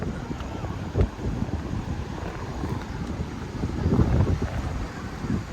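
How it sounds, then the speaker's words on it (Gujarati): Sea waves wash onto the Dwarka shore amid steady wind buffeting, a continuous broadband rush with surges of louder surf around the second and fourth seconds. "મોજા આવતા તમને દેખાતા હશે"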